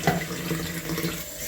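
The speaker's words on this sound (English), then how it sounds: "Then I'm going to put another 60 ml of water in it." Cold water pouring steadily into a measuring jug while making a chocolate cake, a continuous close splashing gush with no talking.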